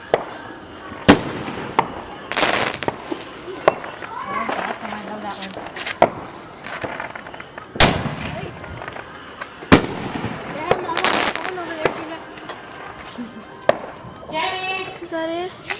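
New Year's fireworks and firecrackers exploding in repeated loud, sharp bangs and crackles spread across the whole stretch, close by, with voices talking and exclaiming between the blasts.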